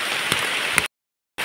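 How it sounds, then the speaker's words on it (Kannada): Steady rain falling outdoors on a farm while fodder leaves are being gathered, a dense even hiss with a couple of louder drops, cut off briefly by a gap of silence before resuming. "ಮಳೆ ಬರ್ತಾ ಉಂಟು ನೋಡಿ, ಮಳೆ ಬರ್ತಾ ಉಂಟು."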